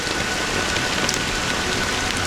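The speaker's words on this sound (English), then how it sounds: "But it's still raining." A dense, steady downpour of rain hisses evenly and loudly throughout, with no pauses or other sounds.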